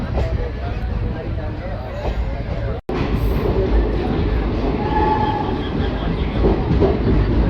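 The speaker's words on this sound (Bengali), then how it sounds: "রাত প্রায় 9টার সময় ট্রেন ব্রহ্মপুর স্টেশন ঢুকছে" Intercity Express train rolling into Brahmapur station at night, a continuous loud rumble and clatter of the carriages close by, with a brief dropout midway and a voice talking over it.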